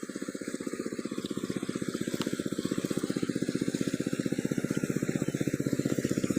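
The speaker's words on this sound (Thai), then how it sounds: "มาสูบน้ำครับ สูบน้ำออก สูบน้ำออกจากนาครับ" An engine-driven water pump pumps water out of a flooded rice field, its motor chugging in a steady rapid rhythm close by throughout.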